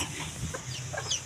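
Domestic chickens clucking in a backyard in the Philippines, where a coop is being built for them; soft, scattered clucks at moderate distance over a steady low outdoor hum.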